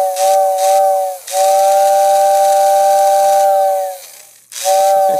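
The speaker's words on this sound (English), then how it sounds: "And there's the whistle tender." A Lionel postwar model train whistle tender sounds a series of loud, hissing whistle blasts: two short toots, then a long sustained blow, then another blast starting after a brief pause.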